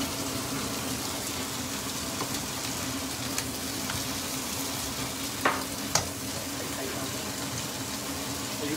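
Shrimp fry in a hot pan with a steady, dense sizzle throughout, broken by a couple of sharp pops or clinks midway, with faint voices in the background.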